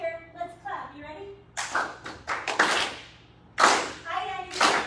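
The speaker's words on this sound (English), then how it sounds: "If you're happy to be here, let's clap." An audience claps at a live folk benefit concert in bursts of broadband applause, loud and close, breaking out after a stretch of talk and then starting up again in shorter rounds.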